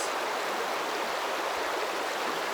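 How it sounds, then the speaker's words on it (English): River water rushes over rocks in Australian bush white water, a steady close hiss of running water with no other sounds or voices. "the water running over the rocks."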